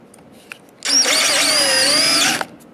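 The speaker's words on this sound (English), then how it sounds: "So what I'm going to do is countersink the top of this hole slightly." A power drill countersinks a screw hole in a wooden glue block, starting abruptly for a single close, loud whirring burst of about a second and a half before stopping, with faint quiet handling before it.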